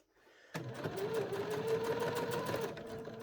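A sewing machine stitches felt appliqué, starting abruptly after a short quiet lead-in and then running in a steady, close, rapid whirr of stitching that holds to the end.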